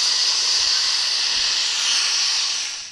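Compressed air hisses steadily from a blow nozzle as clutch parts from a 1953 Willys CJ3B jeep are cleared. The bright, continuous rush is close and loud, with no talk over it.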